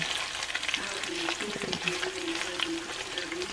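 Food frying in plenty of oil in a pan at home, a steady crackling sizzle heard up close, with stirring and faint clinks mixed in and no talking.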